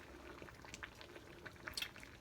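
A pot of water boils on a stove, giving a faint, steady bubbling hiss with scattered small pops and gurgles, quiet and close, with no talking.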